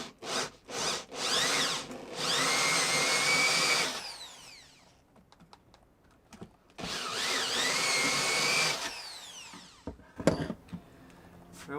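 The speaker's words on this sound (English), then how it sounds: "Now what I'm doing with these to countersink them is just drilling out a hole." A power drill bores countersink holes for bolts during a DIY salon build, two long loud whining bursts of drilling with a short pause between and scattered knocks and clunks around them.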